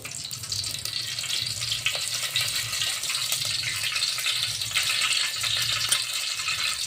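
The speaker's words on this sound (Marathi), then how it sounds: "आता मी यामध्ये तेल टाकते" Cooking oil, about three spoonfuls, poured into a pan for a chicken korma, giving a steady hiss and gentle sizzle throughout, fairly faint and continuous with no talking.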